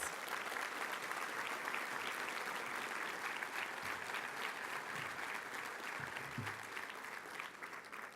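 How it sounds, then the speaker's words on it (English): Audience at a luncheon giving a sustained round of applause, a thick, even roar of many hands clapping that continues unbroken for several seconds before easing slightly at the end. "please give these current leaders a round of applause"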